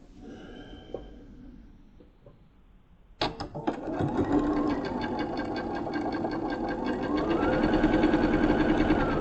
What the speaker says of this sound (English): I'll take them over to the sewing machine.